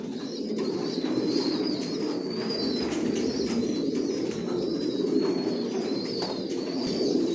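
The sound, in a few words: grizzle racer pigeons cooing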